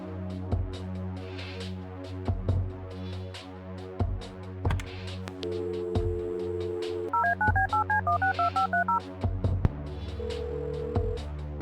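Touch-tone keypad dialing on a phone in the Kathy Rain point-and-click game: a quick run of a dozen-odd DTMF beeps in an even rhythm, plus a few longer tones, over a steady musical game background with no talk.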